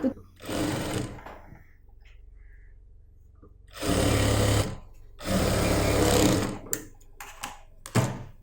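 A domestic sewing machine stitches a folded half-inch hem on a churidar bottom in loud, close bursts of steady whirring, broken by pauses and a few short taps.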